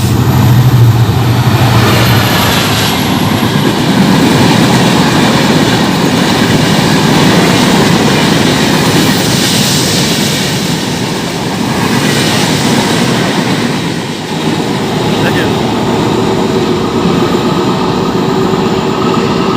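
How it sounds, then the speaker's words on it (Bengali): A fast train running through Jamdiya railway station, a loud, sustained roar and rumble of wheels and carriages filling the whole stretch, easing slightly near the end before surging again. "কত দ্রুত গতিতে ট্রেনটি চলে গেল"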